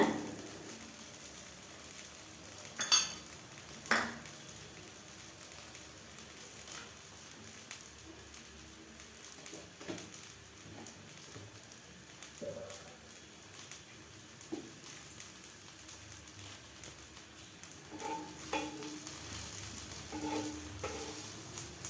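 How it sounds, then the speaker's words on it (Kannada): A wheat flour vegetable dosa cooks on a pan over a low flame, giving a faint, steady sizzle with a few soft knocks and clicks scattered through it. No one speaks. "ಸಣ್ಣ ಉರಿಯಲ್ಲೇ ಬೇಯಲಿಕ್ಕೆ ಇಟ್ಟಿದ್ದೀನಿ"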